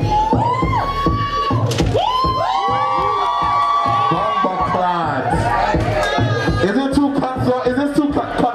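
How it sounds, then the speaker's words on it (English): A party crowd at a dancehall ballroom event screams, whoops and cheers loudly and continuously, with shrill voices rising over clapping and chatter throughout. "Audience, do your job. Scream, clap, make it hype."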